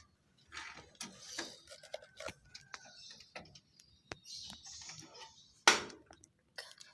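A screwdriver drives screws into a PC case during assembly, making close, quiet ratcheting clicks and small metallic ticks in short bursts separated by pauses.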